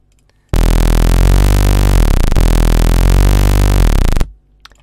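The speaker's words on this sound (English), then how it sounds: "I made a very simple bass in citrus that sounds like this" A very simple synthesized bass tone made in a software synth, a single loud sustained note rich in harmonics, held steadily for about four seconds before cutting off, alone with no talking.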